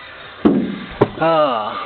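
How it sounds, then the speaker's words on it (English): Driver's door of a Dodge Omni GLH shut twice, two solid thuds about half a second apart, followed by someone speaking. "Here's shutting the driver's door"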